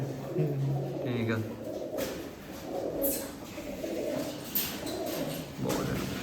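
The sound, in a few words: pigeons cooing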